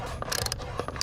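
A ratchet tightens a JLT oil catch can on a 2020 Mustang GT Premium, giving a quick run of close, crisp clicks in uneven bursts with no talking.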